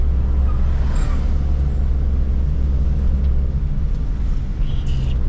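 Steady road traffic passing on a mountain road where many rented two-wheelers, Royal Enfield bikes among them, ride by in snowy Rohtang, a continuous engine rumble and roar close by with no break and no talk.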